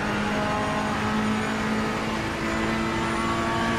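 A Ferrari 488 GT3 race car in Assetto Corsa Competizione at Imola holds a steady, loud engine drone with a sustained tonal hum, continuous throughout and without talk.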